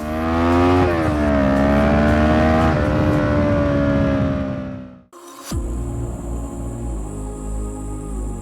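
A 2012 Kawasaki Ninja 650R with a full system exhaust roars loudly, engine pitch rising and falling through several revs, then cutting off abruptly before a different engine-like drone with music-like tones takes over.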